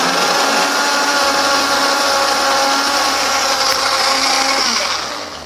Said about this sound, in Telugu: ఇప్పుడు దీన్ని నేను బాగా మిక్సీ చేస్తున్నాను